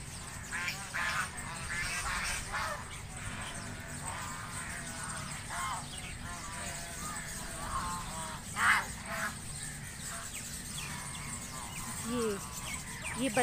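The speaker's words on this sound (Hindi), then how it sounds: "ये बत्तखों का घर है" Ducks quack at a zoo pond amid the general bustle of visitors, with scattered honks and calls over steady background noise and a voice talking nearby.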